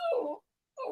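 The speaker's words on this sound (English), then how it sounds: "We get to hear his dog whine." A dog whines in two short, high whimpers separated by a brief silence, fairly close and clear.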